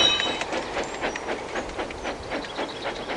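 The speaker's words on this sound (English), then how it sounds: "Then Toby set off light engine up the line" A small steam engine runs light along the line with a steady rhythmic clatter and chuffing, moderately close and continuous with no voices.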